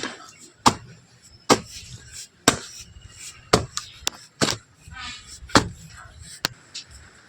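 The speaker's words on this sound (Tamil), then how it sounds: "ஒரு முக்கால் அடி ஆழத்துக்கு அதன் உரம் போடுவதற்கு நம்ம குழி எடுத்துக்கலாம்" A jasmine planting pit about nine inches deep is dug in soil, with a tool striking the ground in about nine sharp separate thuds spaced roughly a second apart, close and fairly loud, with no talking.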